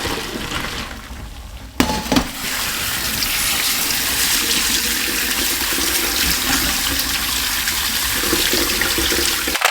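Water from cooked broccoli and cauliflower pours steadily down a kitchen sink drain, a constant close-up gushing and splashing that starts after a brief clunk and carries on without break.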